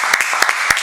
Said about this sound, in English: One more round of applause for Jeff.